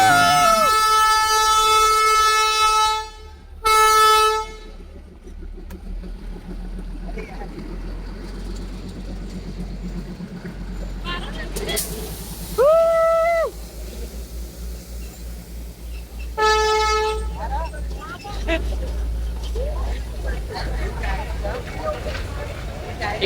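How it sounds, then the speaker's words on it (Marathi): Matheran toy train pulling in, its horn sounding in several loud tonal honks, an early pair and then two later blasts, with engine rumble and crowd bustle filling the gaps; people chatter throughout. "इकडे ट्रेन आलेली आहे आणि फायनली आम्हाला ट्रेन बघायला भेटली टॉय ट्रेन"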